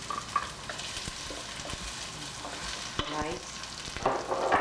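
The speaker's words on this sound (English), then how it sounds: "we're going to add the onion. And just saute that." Onion sautés in a pan with a steady sizzle and the scrape of stirring, a continuous moderately loud frying hiss, with one brief spoken word.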